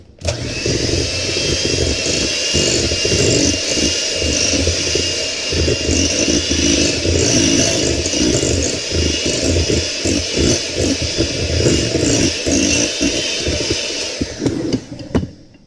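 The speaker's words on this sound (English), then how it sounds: "on with our Oster Power Beater" Oster Power Beater electric hand mixer beating zucchini bread batter, a steady loud whirring motor with a rough chopping texture that runs for about fifteen seconds before stopping.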